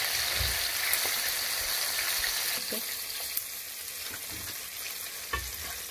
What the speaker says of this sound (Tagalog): i-double fry ho natin ulit para mas crunchy pa ho siya